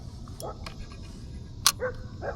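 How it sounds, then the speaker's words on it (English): A dog barks a few times outdoors across the water from a kayak on a catfishing trip, the sharp barks fairly distant and spaced out over quiet ambient noise, with faint speech. "But only one of them feels compelled to bark."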